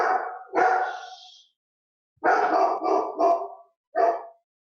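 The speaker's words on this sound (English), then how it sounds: "That's my dog, Soshi." A dog barks close and loud indoors, a few sharp barks with short gaps and a longer pause between them, no one speaking.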